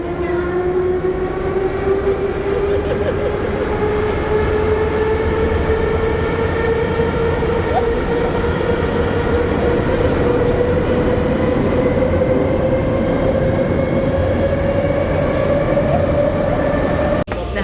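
A Baku metro train runs through an underground tunnel with a steady loud rumble. Wheel squeal holds throughout and slowly rises in pitch over nearly eighteen seconds, with no voices.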